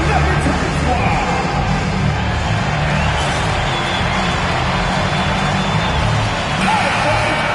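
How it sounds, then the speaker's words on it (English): Loud arena crowd in the NBA 2K26 basketball game, Denver Nuggets home playoff atmosphere, a steady dense roar of cheering and yelling that runs unbroken throughout, with scattered whoops rising out of the mass of fans. "it's time to get a loud crowd for the Nuggets Fight Squad"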